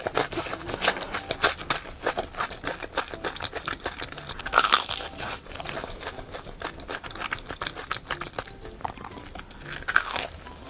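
Someone bites into a sugar-coated potato hotdog with cheese and ketchup, producing repeated close, sharp crunches followed by chewing in an irregular rhythm, with no talking.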